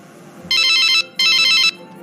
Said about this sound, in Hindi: मैं मम्मी से ही फोन लगाकर पूछती हूँ।